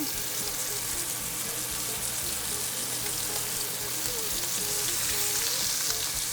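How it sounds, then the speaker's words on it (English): A steak sizzles and fries steadily in a pan over high heat, its loud, continuous crackle and spatter running throughout with no pauses. "I set down the fat end of the steak and lay it away from me."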